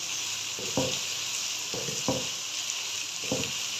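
Onions and potatoes fry together in a pan, giving off a constant sizzle, with a few spoon or spatula stirs and scrapes scattered through it.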